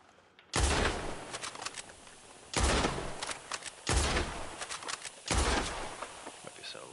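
Gunfire in the video game Red Dead Online comes as four loud, sharp volleys of shots, each followed by a short decaying tail, spaced about a second or two apart with no talking.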